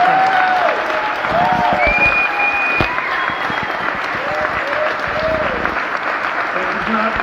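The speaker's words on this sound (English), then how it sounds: "Let's give a great round of applause to Barbie Kyagulanyi." At a film premiere event, a crowd claps loudly and continuously for about seven seconds, with cheers and whoops rising above the applause.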